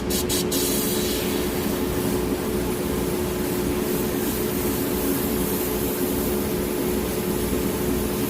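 A Harder & Steenbeck Evolution Silverline airbrush with a 0.2 mm tip sprays thinned paint in a steady, continuous airy hiss that stays even and unbroken throughout.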